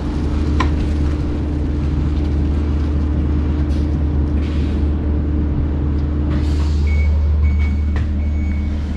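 A Volvo BZL electric truck parks up nearby, its repeated reversing beeps sounding over a low, continuous rumble, with an air brake hiss amid steady outdoor ambience.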